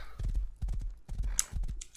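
Quick, hollow hoof clops of a horse in the video game Rust, in a trotting rhythm, close and crisp, with a few brighter ticking accents.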